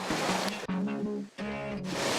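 Tributary stream of the Prut river in the Carpathian mountains, along a hiking trail to the Prut waterfall: steady, close rushing water noise running continuously, with tonal hum and brief dips, no speech.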